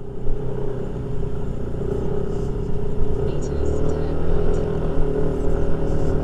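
A motor vehicle engine runs during a ride in Southern Leyte, a steady low rumbling drone with riders speaking over it.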